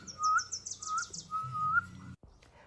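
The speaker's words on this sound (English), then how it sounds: "I see a red bird looking at me." A red bird chirping and whistling, with a run of quick high chirps followed by repeated clear whistled notes, fairly close and alone, ending in a short break.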